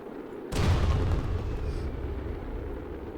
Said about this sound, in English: Why have I got fireworks that have not launched them yet?